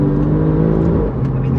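Alfa Romeo Giulia GTA M accelerating hard, a loud close engine roar with steady tonal drone, heard from inside the car without talk.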